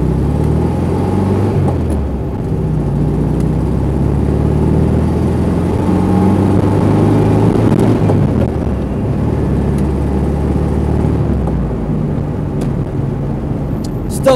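A 1968 VW Karmann Ghia drives along with a steady, low engine rumble and road noise filling the cabin, a continuous droning hum that stays even throughout with slight shifts in pitch.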